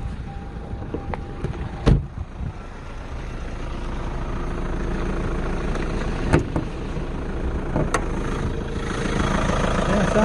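A 2010 Kia Soul engine idles steadily with a low, even rumble, broken by a few sharp clicks and knocks nearby.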